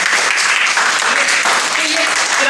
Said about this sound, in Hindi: चलो आपने अपने लिए तालियां बजाओ।